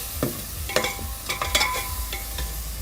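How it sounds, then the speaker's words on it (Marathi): Masala sautéed in oil over a wood-fired chulha for Kolhapuri chicken rassa, with a spoon scraping and stirring in irregular clicks over a steady close sizzle. "मसाला चांगलासा परतला ना चांगलंसं तेल सुटतंय"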